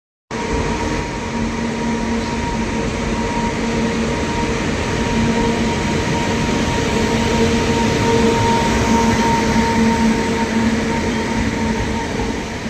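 A train rumbles steadily from inside a carriage on a ride toward Botad, a loud continuous low drone with faint tonal whines running over it from start to finish.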